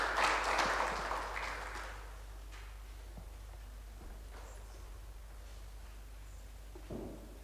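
A congregation at a Sunday Hindi church service applauds to welcome a speaker, the clapping loudest at first and then fading away into a quiet room with a low steady hum.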